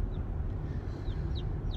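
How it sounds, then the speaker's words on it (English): Young chicks in a new backyard flock peep faintly, a few short high chirps scattered over a steady low rumbling background. "That is the beautiful sound of chicks."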